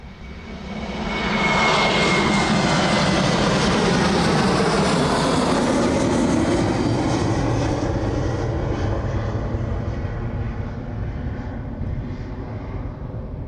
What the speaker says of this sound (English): that training aircraft looks like it's about to make another touch and go